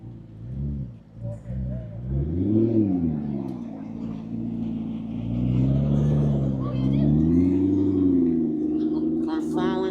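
McLaren P1 supercar arriving and revving, a deep engine note rising and falling in several swells, fairly close and loud, with people talking over it throughout.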